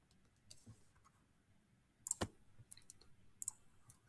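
Calculator keys being typed on, a few sparse, faint plastic clicks scattered over a few seconds in a quiet room, one click sharper and louder than the rest.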